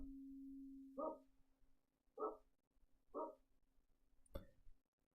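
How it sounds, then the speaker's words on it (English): A dog barks three times at evenly spaced intervals over a steady low hum, with a sharp click shortly after the last bark and no one speaking. "The dog is barking."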